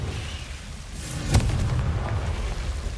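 Confringo spell explosion in Hogwarts Legacy, a single sharp blast followed by a rumbling, sustained low roar that lingers at steady loudness.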